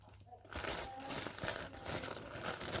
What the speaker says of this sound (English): I make sure that I remove all the air inside before I close it